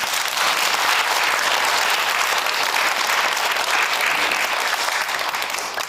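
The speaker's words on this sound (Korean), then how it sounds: "박수 한번 주시기 바랍니다" Sustained audience applause fills a church seminar hall, steady dense clapping from a large crowd at a gathering opposing an anti-discrimination law, loud and continuous throughout with no speech over it.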